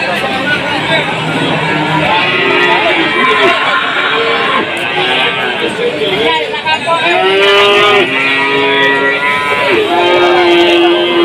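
Young male Limousin and Simmental cattle bellow at the Tuban cattle market, giving loud, drawn-out moos one after another, close by. Crowd babble and voices run underneath.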